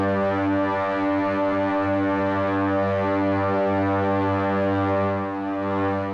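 Novation Peak synthesizer producing ambient strings with an adjusted oscillator mix, a dense, sustained droning chord with rich low harmonics, steady and fairly loud throughout without any voices.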